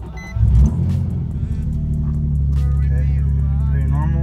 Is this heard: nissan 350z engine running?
yes